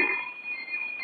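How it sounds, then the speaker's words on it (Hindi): A ringing alarm clock in a bedroom scene from a 1980 Hindi film gives a shrill, steady, continuous ring for the whole moment, with no voices over it. "ये बदतमीजी नहीं डॉक्टर साहब, अलार्म घड़ी है।"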